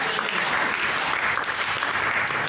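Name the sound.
congregation applauding in church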